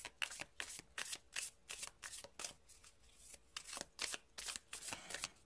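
Oracle cards are shuffled for a tarot-style reading, quiet close riffling and slapping in a quick irregular rhythm of many short bursts with no voices.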